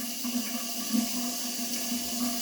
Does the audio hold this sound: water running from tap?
yes